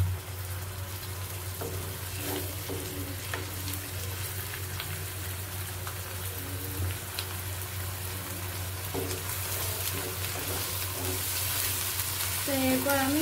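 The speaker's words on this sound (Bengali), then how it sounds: "ভালো করে পেঁয়াজের সাথে মিক্স করে নিতে হবে, ভালো করে ভেজে নিতে হবে।" Onions with ginger-garlic paste fry and sizzle steadily in a pan for a Bihari-style chicken masala, with intermittent scraping stirs throughout and faint voices in the background.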